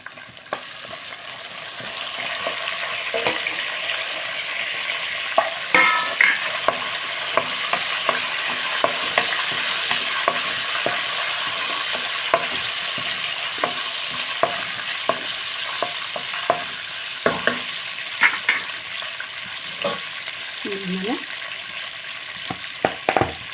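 Cumin, dried red chillies and curry leaves frying in oil for a cabbage fry, a steady close sizzle with frequent clicks of a spoon stirring the pan.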